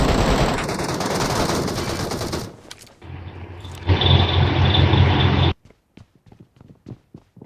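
Rapid bursts of automatic gunfire from a first-person shooter video game, loud and close, a long sustained burst then a second heavy volley, followed by scattered single shots trailing off.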